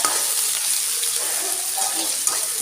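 Onion and chilies fry in hot oil in a home kitchen, giving a steady, dense sizzle that hisses continuously with faint crackles throughout.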